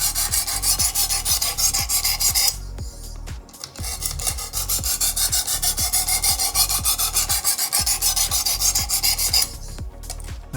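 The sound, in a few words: knife sharpened on Work Sharp sharpening kit abrasive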